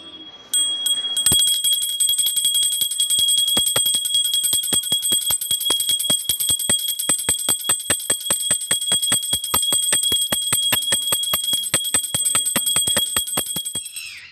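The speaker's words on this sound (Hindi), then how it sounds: "जब हम आरती और पूजन के समय गरुड़ घंटी बजाते हैं" A Garuda bell, the small handheld brass temple bell used during aarti and worship, rings continuously in a rapid steady clang, bright and close, sustaining for over ten seconds without any voices.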